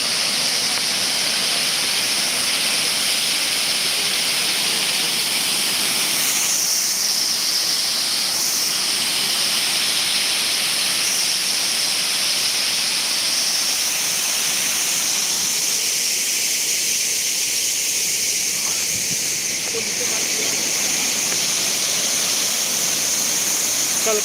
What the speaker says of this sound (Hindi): कलकल बहती धारा नदी।